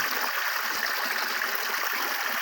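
Water flowing in a stream where people bathe, a steady, loud, continuous rushing and splashing with no voices.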